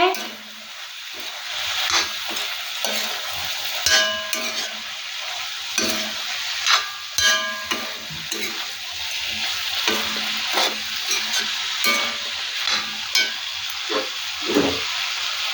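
Boiled Chinese potatoes coated in turmeric fry in a pan, giving a steady close sizzle broken by scraping stirs and light knocks, with no talk over it.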